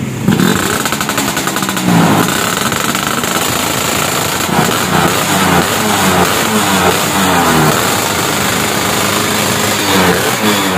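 A Vespa scooter fitted with a Yamaha RX King piston, freshly cleaned carburettor, starts and revs loudly, harsh rattling two-stroke bursts rising and falling repeatedly close by.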